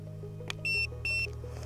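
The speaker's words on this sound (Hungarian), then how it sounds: "Egy hangos csipogásra jelző, hogy a hajó elindult" A Boatman bait boat remote control gives two short, loud electronic beeps in a row, sharp pure tones standing out over a faint low hum.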